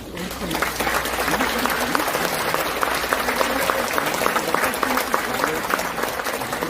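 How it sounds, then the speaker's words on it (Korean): Audience at a Liberation Day ceremony in Gwangmyeong clapping to welcome visiting students, steady, moderately loud applause throughout, with some speech faintly underneath. "학생분들 모두 일어나셔서 인사해 주시면 박수로 맞이해 주셨으면 감사하겠습니다."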